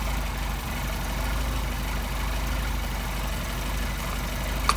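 A Mercedes 190SL engine with Solex carburetors idling low and steady, a continuous even rumble heard close with no voices and a small knock near the end.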